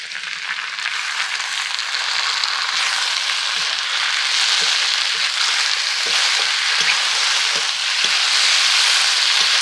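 Potatoes with onion, tomato and ground spice paste fry in a pan, a loud, close, continuous sizzle with faint stirring scrapes underneath.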